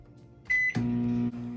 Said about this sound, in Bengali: এবার আমি তেলটিকে গরম করে নিচ্ছি আমি টাইম দিচ্ছি এক মিনিট